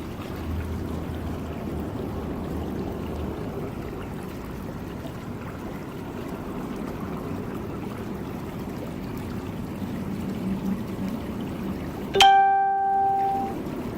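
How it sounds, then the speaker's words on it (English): Water sloshes and swirls in a gold pan during sluicing, a steady watery wash throughout, ending with a sudden clear ringing metallic tone near the end. "Put some water, swirl it around"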